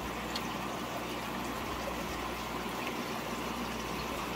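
Air stone bubbling steadily in a freshwater prawn breeding tank, a faint continuous fizzing wash of water with a low hum beneath, no voices.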